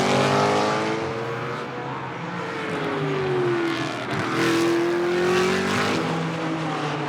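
A GT race car engine roars during free practice on the Moscow circuit, loud sustained revving with rising and falling pitch as the car shifts gears and passes, with faint tire noise.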